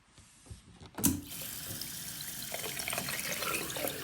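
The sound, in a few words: filling a pot with tap water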